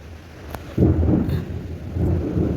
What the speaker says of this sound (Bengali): মেঘ ডাকছে প্রচণ্ড পরিমাণে